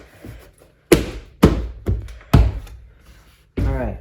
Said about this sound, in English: push it in so these clips, you'll hear them pop into place